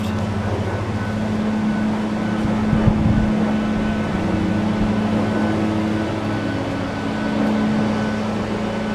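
A 2003 Hyster H155XL2 15,000 pound dual wheel LPG forklift idles with a steady low engine drone and constant hum, close and even throughout, with no voices.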